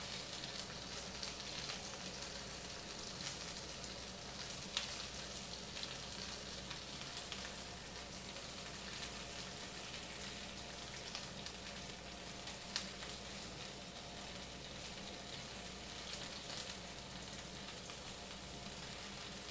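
Lamb sizzling and frying in a pan while Hokkaido-style food is cooked, a steady, even crackle of hot fat that holds at a moderate level throughout, with occasional sharper pops and no talking.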